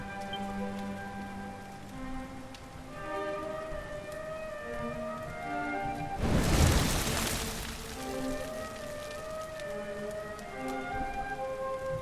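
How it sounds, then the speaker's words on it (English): Rain falls in the Dragon Quest XI video game, a steady hiss under sustained game music that swells into a loud, noisy rush midway before settling back. "Looks like the rain's dying down."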